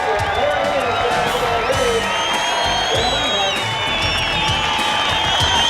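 A capacity crowd at Cayuga Speedway, south of Hamilton, Ontario, for a 1990 ASA stock car race, a dense continuous roar of cheering, whoops and shouts with scattered clapping and mixed voices throughout.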